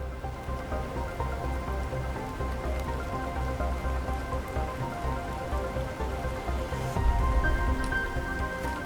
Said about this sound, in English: Nice to see some rain going on.